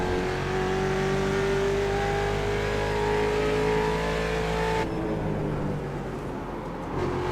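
A Ford Mustang race car in the iRacing sim racing game at Laguna Seca, its engine droning steadily and loudly up close with rising pitch, then easing off as the throttle drops near the end.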